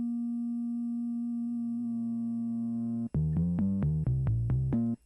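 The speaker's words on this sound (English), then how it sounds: "filter in self-oscillate mode, so. There's no oscillator involved in there." A synthesizer filter self-oscillating with no oscillator, on an UNO Synth Pro, holds a steady pure whistling tone for about three seconds, then jumps into about eight rapid stepped notes, loud and close.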